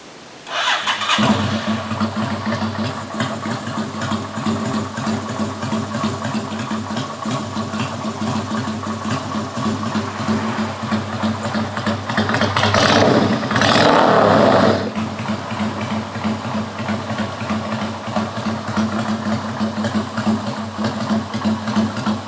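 A 2013 Ruby V-twin 250cc motorcycle engine, in healthy condition, fires up after a brief pause and settles into a steady, loud idle close by, with one short rev in the middle.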